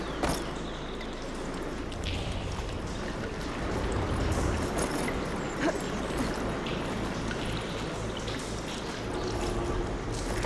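Water runs inside a room in the video game Horizon Forbidden West, a continuous rushing, splashing wash that holds at an even level from start to finish.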